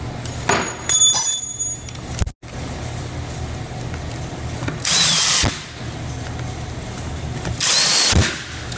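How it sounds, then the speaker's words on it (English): Power drill driving screws into a converging pocket door frame for a pair of doors, in two loud bursts of a second or so each, with a brief bell-like ring at the start. "You can put these two screws in now."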